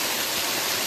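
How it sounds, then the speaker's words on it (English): Waterfall pouring down rock on a hiking trail, a steady, close, full-bodied rush of falling water that holds constant without a break or any voices. "Some waterfall water."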